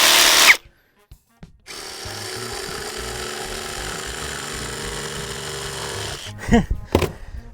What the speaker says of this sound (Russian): Я взял вот такой брусок 50 на 20 и посмотрим, как лобзик справится с этой задачей.